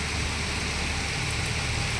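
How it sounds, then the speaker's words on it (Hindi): Heavy rain pouring steadily over flooded farm fields readied for rice transplanting, a dense, loud, unbroken hiss with no pauses and no voices. "ये देखो गाइस कैसी बारिश हो रही है"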